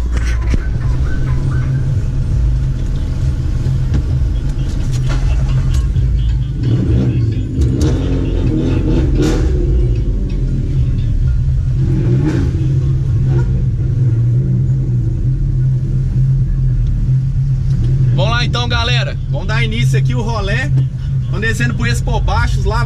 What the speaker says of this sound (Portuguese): Dá uma acelerada aí, Lucão.